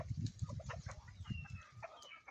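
Free-range country chickens cluck softly in a quick, irregular series, with a faint chirpy call near the end, all fairly distant and quiet.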